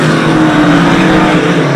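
Modified race cars roar past on an oval during a race, a loud dense blend of engines at full throttle with no break, close and continuous.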